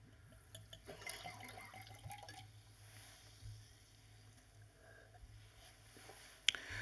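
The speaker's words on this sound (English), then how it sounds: "I'm going to put some water in my glass." Water is poured into a drinking glass at a lecture podium, a faint, soft trickle over a low room hum, with no talking.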